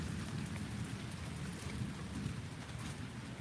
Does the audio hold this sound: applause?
no